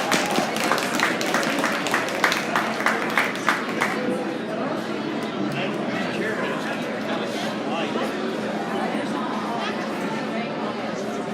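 An audience at a swine show in a livestock arena applauds, with a few seconds of clearly spaced clapping that fades into a steady background of crowd chatter and movement.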